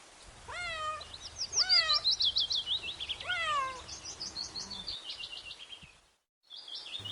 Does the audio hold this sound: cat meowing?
yes